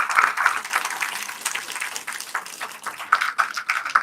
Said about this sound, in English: please give big round of applause for all of them